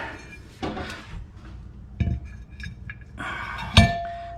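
A small electronic parking brake pad part from a car's brake assembly drops and clinks metallically against a hard surface, with a sharp bright strike near the end among other faint handling clatters.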